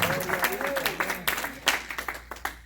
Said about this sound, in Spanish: Denle fuerte aplauso a ese padre que está sentado en su trono.